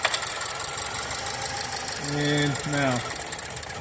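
A 2013 Land Rover Evoque with hesitation on acceleration and a single-cylinder misfire hums steadily at raised RPM during a cylinder test, while someone speaks briefly over the constant engine drone.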